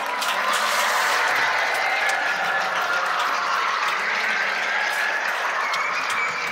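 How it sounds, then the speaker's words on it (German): A large conference audience at an AZK jubilee event applauds the movement's founder with loud, dense, sustained clapping that stays even throughout, with no voices over it. "Also geben wir mal einen schallenden Applaus für den ACK-Gründer Ivo Sasek."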